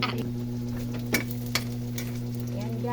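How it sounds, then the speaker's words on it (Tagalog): Pork fat sautéing with onions in a pan gives a steady sizzle with a low hum underneath, broken by a few sharp clicks of utensils against the pan. "ginigisa ko na yung taba sa sibuyas at ilalagay ko na din yung gulay"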